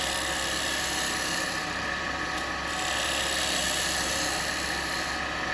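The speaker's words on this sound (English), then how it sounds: "If I come in with the way the chisel's coming in, if you look, I'm actually slicing." A woodturning lathe spins with a dense, continuous high whir while a chisel slices steadily into the workpiece, a constant close buzzing texture with little variation and no talking.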